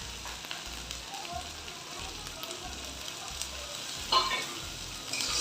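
Tomato drops into hot oil in a pan and fries with a soft, even sizzle and crackle throughout, fairly faint and steady, with a slightly louder spatter near the end.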